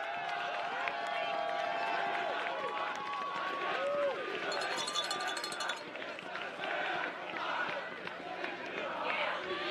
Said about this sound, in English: Let's have a nice round of applause for our runners-up